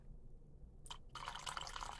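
Sagrantino red wine poured into a paper coffee cup, starting with a brief splash and then a faint steady stream of liquid filling the cup, quiet and close.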